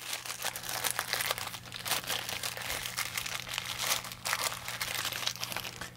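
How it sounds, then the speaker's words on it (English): A sealed plastic bag holding an oiled bolt from a Rossi RB17 bolt-action .17 HMR rifle is torn open with steady, continuous crinkling and tearing that sounds close and fairly loud for about six seconds. "It is sealed up in this bag here. So we'll tear that open."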